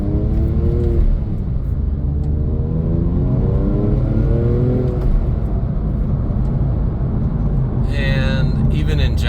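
A Porsche 997 911 S drives on the road near Jasper, Georgia, with a steady engine rumble that rises as the car accelerates. A person talks over it, and a brief high whine follows near the end.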